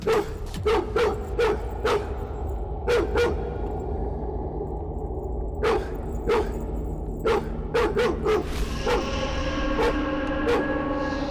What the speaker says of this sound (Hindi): आपको भी देखकर ये भौंक रहा है